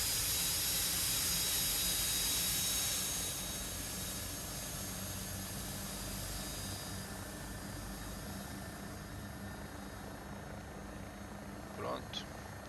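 The engine of an AW109SP helicopter spools up in the X-Plane flight simulator, a steady turbine whine with a high tonal hum that eases slightly as it settles. A short voice cuts in near the end.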